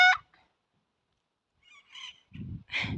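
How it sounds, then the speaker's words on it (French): A free-roaming parrot in Chile calls in loud, harsh bursts: one sharp squawk at the start, then, after a quiet gap, a cluster of raspy honking cries near the end, close by and alone. "Il y a un perroquet en liberté."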